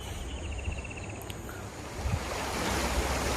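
The flooded Sabarmati River below Dharoi Dam roars steadily, a broad continuous wash of rushing water with wind buffeting the microphone, growing slightly louder toward the end.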